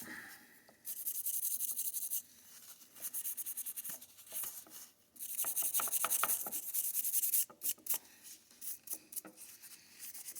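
A brush scrubs over a KAC Sandcutter rifle bolt carrier in bursts of dry, hissing rubbing strokes, some long and steady and others short and choppy, close up with no speech.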